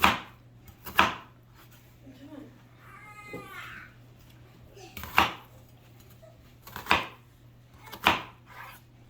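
A knife chops an onion on a board into shrimp-sized pieces, several sharp separate thuds spaced apart, with a cat meowing briefly between cuts.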